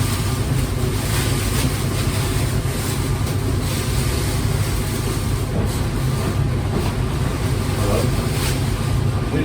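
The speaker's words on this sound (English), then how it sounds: "Wind's getting up." Wind blowing outdoors, a loud, steady buffeting rush across the microphone that continues throughout the clip, with a faint voice underneath.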